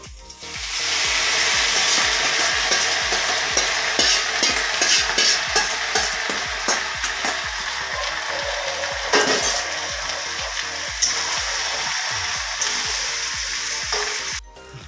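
Soybean pieces fry in hot oil while being stirred around the pan, a loud, steady sizzle carrying on throughout with repeated scrapes and taps of the utensil against the pan.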